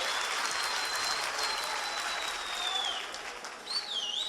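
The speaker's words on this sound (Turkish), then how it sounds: "bu ruh bence daha fazla alkış hak ediyor" An audience claps steadily in a dense wash of applause that fades slightly toward the end, with a faint whistle-like tone above it.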